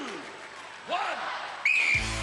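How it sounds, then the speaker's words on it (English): Referee's whistle at a 1994 UK Gladiators heat, a sharp, loud sustained blast near the end, preceded by a faint whistle tone and background crowd noise. "Dean, you will go on my second whistle"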